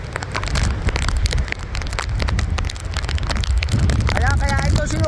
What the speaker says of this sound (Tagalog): kasi naulan, sobrang lamig at malakas ang hangin